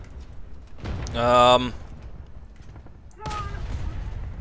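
Artillery self-propelled gun cannon firing in War Thunder: a loud booming shot just past the first second, then a second report near the end, each trailing off over a low background rumble.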